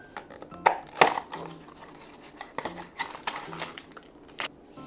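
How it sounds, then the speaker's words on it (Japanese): A knife chops vegetables such as spinach on a cutting board. Irregular sharp taps and knocks are mixed with light clinks of dishes and utensils, close and fairly clear, with no talking. "トントン野菜を切る音がする"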